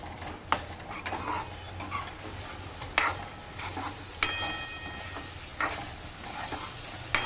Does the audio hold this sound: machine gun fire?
no